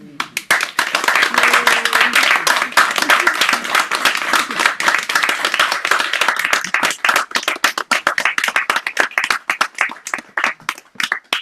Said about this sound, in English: Please give Martha and Fred another round of applause for an insightful reading and conversation